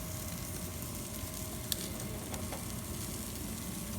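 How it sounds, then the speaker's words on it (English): Steak searing on a grill gives off a faint, steady crackling hiss, with a few sharper pops breaking through the continuous sizzle. "this is starting to get a little sizzle"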